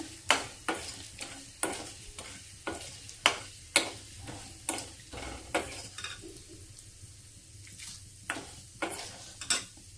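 Chana dal and asafoetida fry in hot tempering oil with a soft, steady sizzle. A spoon clacks sharply against the pan again and again in an uneven stirring rhythm.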